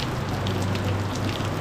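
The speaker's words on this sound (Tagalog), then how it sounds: "At ayan po, bumuhos na ang ulan. Ang lakas. Malakas ang ulan." Heavy afternoon rain pours down in the Philippines as a dense, continuous hiss that drums steadily on the surfaces nearby, loud and unbroken with no voices.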